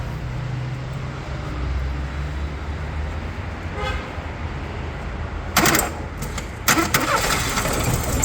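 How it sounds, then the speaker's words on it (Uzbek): A Daewoo Nexia car engine is cranked and started, with two short loud cranking bursts near the end over a steady hum of background noise. "Hop, endi esa mashinani o'tatishimiz kerak."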